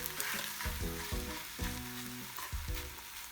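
A thin crepe-like egg layer sizzles in a hot pan just after being flipped, a steady frying hiss with a few soft scraping and tapping touches from a utensil, close and moderately quiet.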